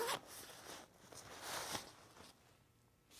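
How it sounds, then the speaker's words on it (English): A zipper on the top pocket of a Lowepro Photo Sport 30L AW hiking backpack is pulled open in a few quick, close, quiet rasping strokes, with no talking. "So on the top, this top zipper,"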